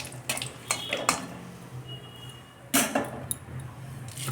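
Bay leaf and dried red chilli are dropped into hot oil in a pan for tempering. A soft sizzle runs under a few sharp metallic clinks and stirring scrapes of a utensil.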